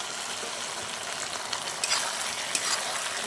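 Chicken pakoras fry in a pan for chilli chicken, a dense, steady sizzle with a few brighter crackles and light stirring sounds over it.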